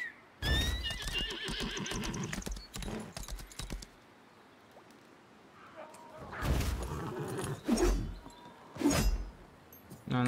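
A horse in the video game Lost Ark whinnies loudly, then hooves clop and more neighs and snorts follow in bursts, with game music and effects underneath.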